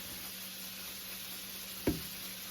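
Shrimps and scallops sear in a pan with leeks and mushrooms, giving a steady, even sizzle throughout, broken once by a single sharp knock near the end, and no voice.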